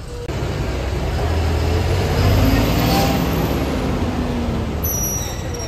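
A Maharashtra State Transport bus runs along the road from Kankavli to Borivali, a loud steady engine and road roar heard from inside, with a high whine and faint hiss near the end.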